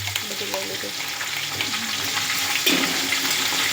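Ginger, garlic and chilli paste frying in a pan for Gujarati undhiyu, a steady close sizzle and hiss running throughout with a brief louder spatter near the end.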